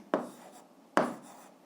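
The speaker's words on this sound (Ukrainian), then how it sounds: "записуємо відповідь, пишемо відповідь" Pen writing an answer on paper during an eighth-grade algebra exercise: two short scratchy strokes, each a sharp onset that trails off, close and quiet with no talk.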